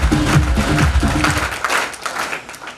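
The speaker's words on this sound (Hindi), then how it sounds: "इनके लिए तालियां हो सकती हैं।" Audience applause for a volunteer called up from the crowd during a motivational talk on building strength, a steady burst of clapping mixed with low chatter and voices in the first half, then thinning out.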